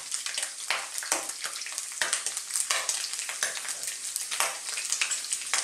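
Pork sizzles loudly in a pan with garlic, onion and ginger, a dense continuous crackle with sharper pops and occasional stirring scrapes, close and steady throughout.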